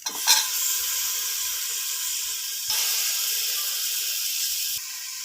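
Two tomatoes drop into a hot pan for sambar, setting off a sharp burst followed by a loud, steady hiss and sizzle that shifts in level twice, close by with no voices.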